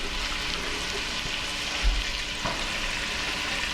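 Onions, mushrooms, carrots and celery sauté in a pan over low heat as a mirepoix for pappardelle Bolognese, giving a steady, close sizzling hiss throughout with one soft thump near the middle.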